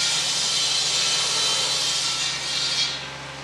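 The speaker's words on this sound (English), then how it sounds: "you can hear my son-in-law with the buzz saw in the background and sawing pole wood" Buzz saw cutting pole wood in the background on a farm, a steady continuous rasping whine that holds level for about three seconds, then eases off slightly near the end.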